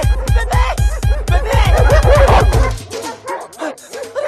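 Dog barking in a Bollywood film scene, a quick run of loud, close, regular barks and yips that stops abruptly, followed by a quieter stretch of background sound.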